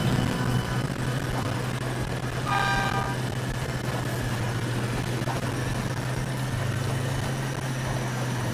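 A train in a video game during a train robbery, rumbling as a steady low drone throughout, with a brief horn-like toot partway through.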